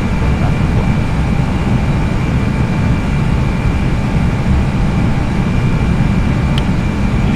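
A320 airliner engines roar steadily during the climb after takeoff from Lugano, a loud, continuous broadband rumble with a faint steady whine on top and no break throughout.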